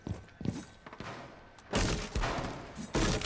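Hip-fire gunfire in the Rainbow Six Siege video game comes as scattered bursts and thuds, quiet at first and then louder, sustained volleys toward the end, with no speech over them.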